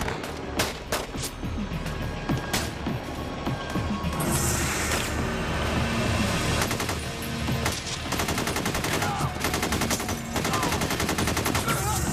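Sustained gunfire from police officers during the North Hollywood bank shoot-out, with scattered shots building into dense rapid bursts like automatic fire, loud and continuous over street ambience.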